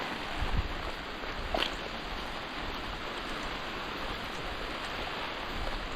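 Rain falling steadily over a tomato farm in the Philippines, a continuous dense hiss with no talking, fairly soft and even throughout with a couple of brief louder patters.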